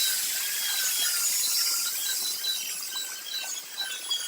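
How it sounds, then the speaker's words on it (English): A grinder grinds down metal on a car body part in a body shop, a steady loud high-pitched hiss and whine that runs for the whole stretch with slight wavering, with no talking. "I'm going to take this and grind this down just a little bit"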